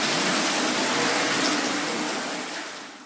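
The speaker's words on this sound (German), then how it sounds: "dieses angenehme Plätschern des Brunnens Pantare" The Pantare fountain at Vienna's Hundertwasser sites, a steady, close, full splash and gush of falling water, loud and continuous before easing slightly toward the end, with no voices.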